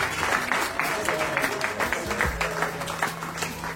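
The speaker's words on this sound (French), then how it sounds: "Et je voulais applaudir pour les deux parents parce qu'ils ont fait quelque chose d'exceptionnel." Audience applause for the parents at a Cameroonian gathering comes as brisk, scattered claps, moderately loud, blended with a murmur of voices and a low hum throughout.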